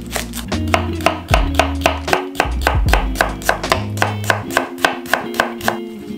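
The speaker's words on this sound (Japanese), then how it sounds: "みょうがも縦半分にして薄切り。" A knife slices halved myoga thinly on a cutting board in a quick, even series of sharp, close taps that keep a steady rhythm throughout.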